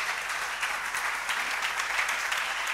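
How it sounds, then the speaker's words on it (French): Church congregation applauding together, a steady, dense wash of clapping held at even loudness throughout, with no talk over it. "Nous acclamons pour la parole du Seigneur."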